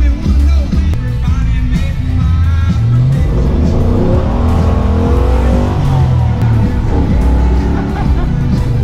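A car engine pulls hard under acceleration on a test drive, a loud, close, rising roar with gear-shifting surges and a faint voice underneath.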